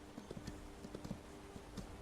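Horse hooves clip-clop in Skyrim, a quiet, fairly regular run of soft hoof knocks over faint background noise.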